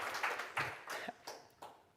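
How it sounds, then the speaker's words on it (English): A small audience at a spatial programming demonstration gives brief, scattered applause, with a few distinct bursts of hand claps fading in and out rather than sustained clapping. "Can I get a round of applause for pink sand?"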